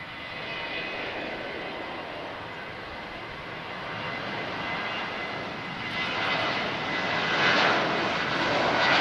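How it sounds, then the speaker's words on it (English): A Ryanair Boeing 737-800 jet departs Lisbon Airport, its engine roar heard from a distance as a steady broadband rumble that slowly swells louder, with no talking. "So next departure, guys, Foxtrot Romeo 3609 off to Brussels. This is Ryanair. 737-800, of course."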